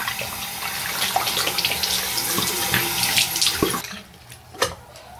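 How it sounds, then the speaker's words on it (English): A tap runs steadily while a face is washed at the sink, a close rushing stream that cuts off near the end, leaving splashes and a drip. "Excuse me while I wash my face."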